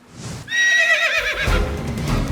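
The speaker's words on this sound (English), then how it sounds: "Horses!" Horses whinny loudly in a TV cartoon jousting scene, a single drawn-out neigh with a wavering pitch, followed by a rough snort and hoof clatter.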